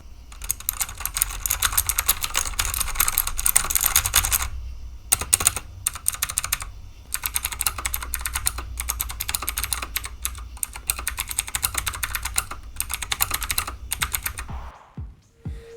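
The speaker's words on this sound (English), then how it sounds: "Keyboard test." Rapid, steady typing on a new computer keyboard, dense clicking keystrokes with a few brief pauses, close and clear with no talking.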